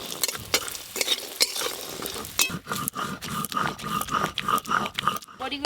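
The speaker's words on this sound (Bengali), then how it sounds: "তেতো রান্নার জন্য এই যে প্রথমে বড়িগুলো এবার ভেজে নেব" Bori lentil dumplings frying in oil in a pan, a loud steady sizzle broken by repeated scraping stirs of a spatula against the pan.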